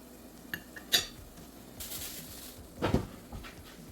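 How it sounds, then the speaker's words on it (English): A metal utensil stirs crayfish and seasoning into jollof rice in a pot, making sharp clinks and scrapes against the pot in a few separate bursts, close and fairly loud. "You add it and you give it a good stir."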